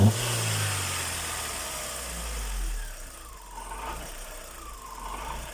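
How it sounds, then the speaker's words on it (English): An Opel Corsa idles unevenly at close range with a low, steady engine hum and an irregular mechanical rattle from the gearbox running underneath, and the level dips slightly partway through. "That rattling sound you're hearing is coming from the gearbox."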